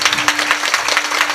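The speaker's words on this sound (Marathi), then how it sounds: "वाजवा टाळ्या वाजवा." An audience at a Marathi kirtan devotional gathering claps together in a loud, dense burst of rapid hand clapping that lasts only a moment, with a faint steady tone underneath.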